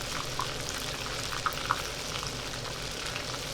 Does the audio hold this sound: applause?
no